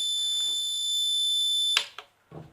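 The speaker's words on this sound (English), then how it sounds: "an eventual continuous beep." A socket tester gives a continuous high-pitched electronic beep that holds steady for nearly two seconds, then cuts off, followed by a few faint clicks and handling noises.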